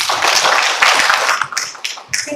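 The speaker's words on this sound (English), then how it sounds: "Let's give a clap for the Lord." An audience at a system launch event claps together, a dense steady burst of applause that thins into a few scattered claps at the end.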